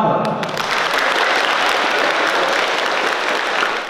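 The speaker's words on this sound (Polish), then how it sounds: "Powitajmy oklaskami Tomasza Amata." An audience at a boxing event applauds a boxer's introduction, loud dense clapping that swells quickly and holds steady for about four seconds before cutting off.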